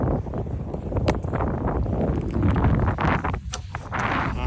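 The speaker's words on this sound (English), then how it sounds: "And we have good wind right here." Wind buffets the microphone on a sailboat off San Diego, California, a loud, gusty, uneven rush with water and rigging noise mixed in and no clear talking.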